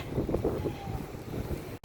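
Strong wind buffets the microphone outdoors, a steady rushing roar with gusty low rumbles throughout, ending in a brief cutout.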